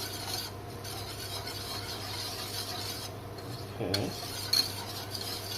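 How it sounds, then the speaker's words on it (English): A utensil stirs a roux-based white sauce in a pan, making a steady soft scraping swish over a faint background hum, with a brief louder scrape near the end; a voice murmurs once. "Keep stirring so that it doesn't have lumps"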